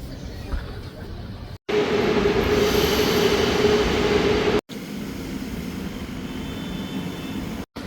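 A St. Petersburg metro train roars loudly nearby with a squealing wheel tone, broken by brief silent cuts, and rumbles on more quietly afterward.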